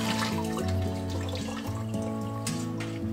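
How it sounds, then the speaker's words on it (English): Tap water runs steadily into a sink as tortillas are rinsed under it in a ship's galley, a close, continuous splashing stream with shifting gurgles and no one speaking. "quickly run them all underwater"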